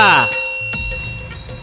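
A bright notification bell chime rings out with a short decaying tone, followed by a second softer ding, close and clear over a brief moment.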